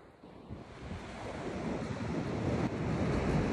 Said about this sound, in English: Now I'm here at the ocean with my dogs.